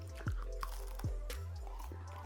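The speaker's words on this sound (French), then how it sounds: "ça croustille bien" Close bites and chewing on a veggie apple burger with a crispy outside and soft inside, from a dark kitchen in Caen: a few wet, crunchy bursts over low mouth noise.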